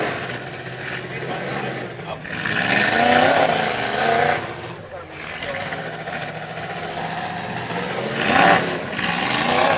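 A demolition derby car's engine fires up and revs at a Minnesota event, a rough, rising and falling motor roar under excited commentary throughout.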